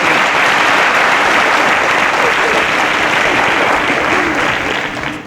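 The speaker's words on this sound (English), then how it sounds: "A round of applause for Samuel." A crowd applauds steadily and loudly, a dense wash of clapping that holds throughout and tapers slightly at the very end.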